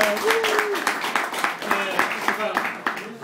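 Audience applause in a comedy club during a stand-up set, a scattered round of clapping from the crowd, moderately loud and steady for a few seconds with some voices mixed in.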